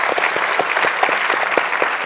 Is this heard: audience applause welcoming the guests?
yes